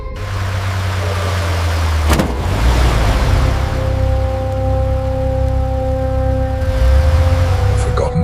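Car engine with a sustained, whooshing hum of a fantasy flying car, building and steady with a faint whine and a sharp click near the start, as wind-like noise swells.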